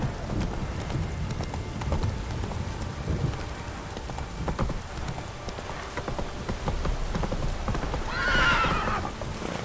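Hoofbeats of the horse Roach galloping in The Witcher 3, a quick continuous clip-clop rhythm with rain in the background, followed near the end by a loud whinny.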